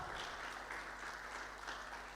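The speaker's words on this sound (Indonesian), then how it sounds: "Tepuk tangan buat Allah kita." A church congregation claps together in steady, sustained applause during a sermon, a soft, even wash of hands with no voices on top.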